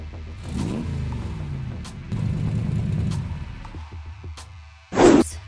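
A hotwired car engine catches and revs up in a movie scene, a rough mid-range rumble that swells twice before a sharp loud burst near the end.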